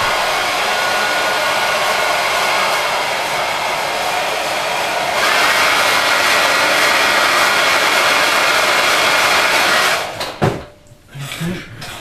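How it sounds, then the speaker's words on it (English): A hair dryer blows steadily and loudly at close range while drying a 1/32 scale P-40 model kit, its airflow shifting pitch slightly midway, then cutting out near the end with a few handling knocks. "I've just got a hairdryer just out of shot."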